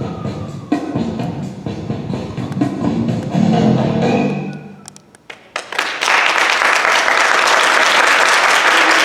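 Kindergarten graduation audience: after dance music fades, the crowd bursts into loud, dense, sustained applause for the young dancers, which holds steady to the end.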